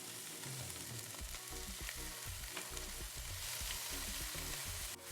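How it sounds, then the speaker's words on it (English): Kale sautés in a skillet with lemon juice and olive oil, a continuous crackling sizzle broken by repeated low scraping and stirring knocks, fairly close and fairly even throughout with no talking. "we're going to head back over to the skillet to saute this kale with some lemon juice and olive oil"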